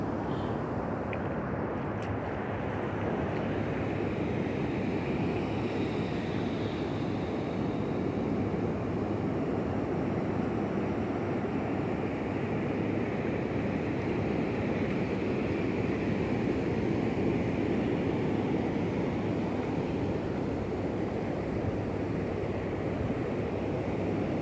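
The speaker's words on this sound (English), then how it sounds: "I knew there'd be some big waves today" Big ocean waves give a continuous broad rumbling roar that swells and churns for the whole stretch, loud and close without clear breaks.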